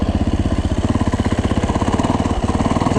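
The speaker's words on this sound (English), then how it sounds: "Just lugs, no problems in second gear." A dirt bike engine, one of a YZ450F, Husaberg FX450 or Husqvarna 450, lugs along in second gear at low revs with a steady, deep, close thumping pulse that runs evenly throughout, with no voices.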